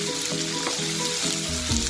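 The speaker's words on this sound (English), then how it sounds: "We'll put it all together and saute for 5 to 7 minutes." Onion, bell peppers and capsicum sauteing together in a pan, a steady moderate sizzle with faint clinks of stirring throughout.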